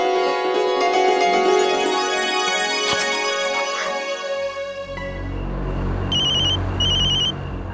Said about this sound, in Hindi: शौर्य का फोन है।